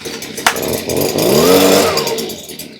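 A STIHL BG 56 C handheld leaf blower's small two-stroke engine is started with a sharp rope pull, then sputters and catches into a rising, rough idle that holds steady and fades slightly, close and loud with no talking.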